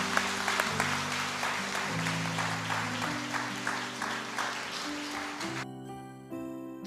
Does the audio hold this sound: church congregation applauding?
yes